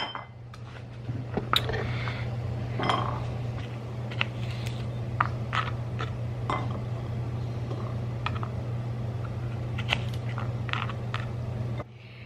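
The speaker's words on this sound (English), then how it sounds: "I'm gonna put up the vegetables here in this bowl." Vegetables being put into a bowl in a home kitchen, with scattered light clinks and taps of dishes and utensils over a steady low hum from a running stove.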